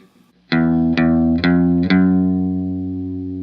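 Electric guitar with chorus effect plays the opening riff of a song: four evenly spaced picked notes, close and clear, each ringing into the next with a shimmering sustain and no voices.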